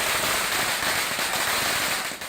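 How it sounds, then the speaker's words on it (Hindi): Dense, continuous crackle of firecrackers bursting on a street in Coimbatore, a loud rapid barrage of sharp pops that keeps going and fades slightly at the end, with no voices. "कोयम्बतूर में तो सड़क पर पटाखे फोड़े गए"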